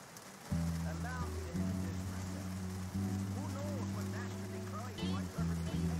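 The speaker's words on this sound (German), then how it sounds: "Geil, es regnet." Steady rain hisses in Euro Truck Simulator 2 on a dark night, washing over the low, continuous drone of a truck engine whose pitch shifts as it drives, with brief dips in the rumble.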